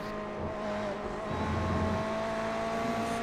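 GT race cars, a Ferrari chasing a Porsche, running at Laguna Seca on the climb toward the Corkscrew, heard as a continuous loud engine drone with a sustained high tone and shifting revs.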